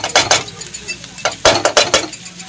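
A spoon scrapes and clinks against a pan while onion paste is stirred and fried, giving a run of close, uneven metallic knocks with a light sizzle underneath.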